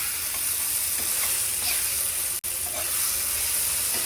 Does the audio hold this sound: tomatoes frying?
yes